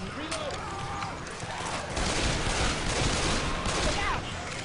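Gunfire and explosive bursts from a grenade launcher in the zombie shooter Left 4 Dead 2, a busy rattle of shots under game noise, with voices talking over the action.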